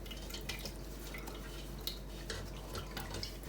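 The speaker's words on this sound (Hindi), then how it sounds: "अच्छे से हमने निचोड़ कर इसमें से पानी निकाल लिया।" Water dripping and trickling from squeezed chenna cheese held in cloth, a run of faint irregular drips and splashes over a steady low hum, with no voices.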